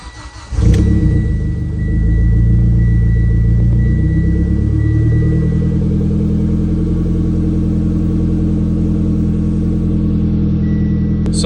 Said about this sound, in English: we're gonna start this car up from a cold start